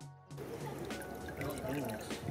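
Water rushes and trickles steadily while coming in during an octopus and red urchin catching outing, a continuous broadband wash with faint voices talking underneath.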